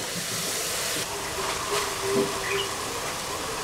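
Besan and lassi kadhi is poured into hot fried masala, giving a steady, fairly quiet hiss and sizzle that continues throughout with a few faint bubbling pops.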